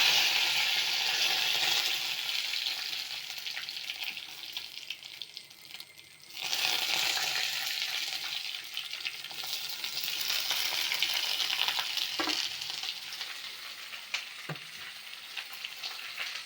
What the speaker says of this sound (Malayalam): കടുക് ഇട്ട് കടുക് പൊട്ടിക്കൊണ്ടിരിക്കുക